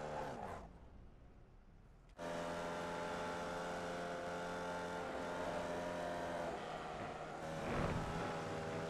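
Formula Vee race car engine in the iRacing simulation at Lime Rock Park drones steadily at high revs after a sudden jump in level, with slight pitch shifts and a brief surge near the end.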